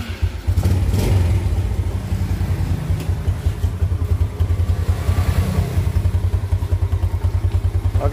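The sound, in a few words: Yamaha Jupiter Z motorcycle engine started with electric starter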